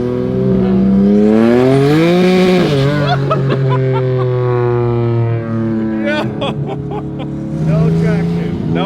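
A turbocharged 3.2L J32 V6 in a swapped Honda Civic hatch roars loudly as it accelerates hard on 300-treadwear tires losing traction, engine pitch climbing across gear pulls, with people talking inside the car.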